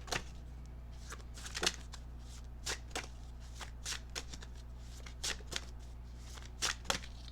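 Tarot cards riffle and slide through a deck in quick, crisp bursts at close range, repeated in an uneven rhythm over a low steady hum, with no talking.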